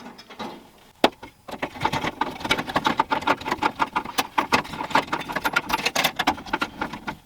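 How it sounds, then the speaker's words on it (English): A recycled K40 laser bed is screwed down by hand, with rapid close ratcheting clicks and metallic rattles coming in dense irregular bursts after a sharp knock near the start. "And now screwing it down."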